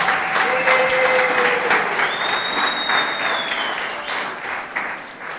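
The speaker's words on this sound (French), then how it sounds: "Nous allons acclamer Dieu pour notre sœur Lauriane." A church congregation claps and cheers for sister Lauriane, steady dense applause from a crowd close by with a few whistles rising over it, lasting throughout.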